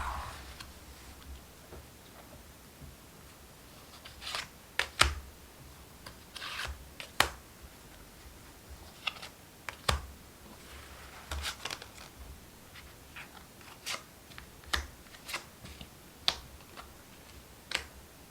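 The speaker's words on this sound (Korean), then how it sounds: "추가적인 카드를 이어서 뽑아볼게요" Tarot cards drawn from a deck, heard as soft close rubbing and shuffling with sharp, scattered snaps and slaps as individual cards are pulled and laid down, in quiet surroundings.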